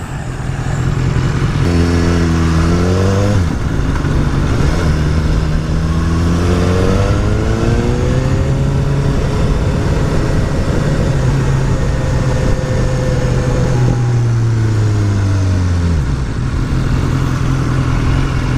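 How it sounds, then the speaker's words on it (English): Road traffic with many cars and motorbikes passing close by during a rush-hour ride home, engines rising and falling in pitch as vehicles accelerate and pass one after another in a constant loud roar. "There's a lot of cars going this way."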